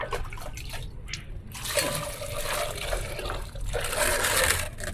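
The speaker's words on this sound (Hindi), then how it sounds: "थोड़ा जितना ऊपरी परत मिट्टी है उसको धो लेते हैं" Running water rinses a layer of soil off round mushrooms, a steady close splash and trickle that grows fuller and louder in the second half, with no talking.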